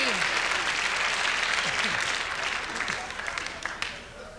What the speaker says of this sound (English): Thank you very much for applauding on that.